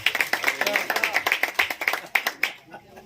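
Rhythmic hand clapping from a Pentecostal church congregation praising God, steady sharp claps about every quarter second, mixed with voices and fading out near the end.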